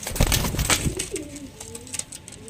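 Two pigeons of a Panjabi or Chennai breed coo in soft rolling calls through the clip, close by and fairly loud, with no talk over them.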